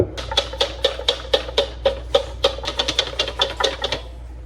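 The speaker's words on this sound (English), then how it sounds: "I'm going to go ahead and whisk up these eggs." Eggs whisked briskly in a bowl for sourdough waffle batter, about twenty quick rhythmic clicking strokes close by that speed up toward the end, with no talking.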